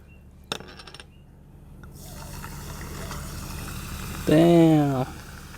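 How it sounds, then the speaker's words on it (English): Mineral water poured over crushed ice into a mojito glass, a steady fizzing pour lasting a few seconds after a light clink, with a loud voiced exclamation briefly over the end. "And then you put some mineral water in there."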